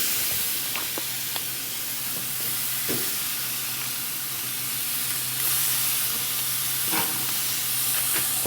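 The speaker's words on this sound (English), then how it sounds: "Let's get these steaks on." Sirloin steaks are laid on a hot grill and sizzle with a steady, even hiss at moderate volume, with a few faint clicks and knocks scattered through it.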